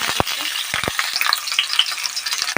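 Mustard seeds crackle and sizzle in hot oil for fried rice, a dense, close spatter with sharp little pops throughout.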